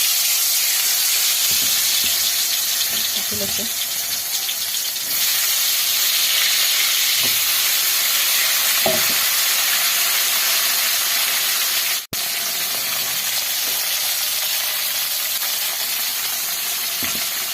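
Hot oil in a kerahi wok hisses in a loud, steady sizzle close by in a home kitchen, with a few faint clinks and a brief gap near the end.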